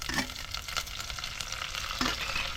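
Curry leaves sizzle and crackle in hot oil in a pan while a crab curry is being made, a steady close frying hiss with a few sharper pops and stirring scrapes, and no voices.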